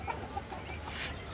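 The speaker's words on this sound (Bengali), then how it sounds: "ইন্দোনেশিয়ান হোয়াইট আয়াম সিমানি জাতের মুরগি।" An Ayam Cemani chicken, an Indonesian breed, makes soft, faint clucking sounds that recur through a short stretch of low background noise, with no talking.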